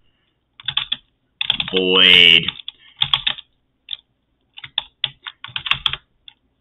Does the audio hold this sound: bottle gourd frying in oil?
no